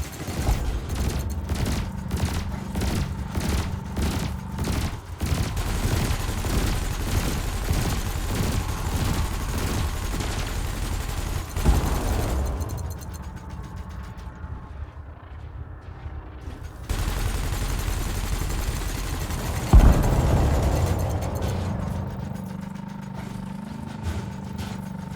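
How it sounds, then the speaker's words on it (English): Cannon and laser fire from a spacecraft in Elite Dangerous: a fast rhythmic burst of repeated shots over a steady engine drone, a quieter gap, then a sharp loud blast and renewed humming fire; no talk. "Your cannon will automatically reload until the ammunition supply runs out. Meanwhile, your laser will fire until the capacitor is depleted"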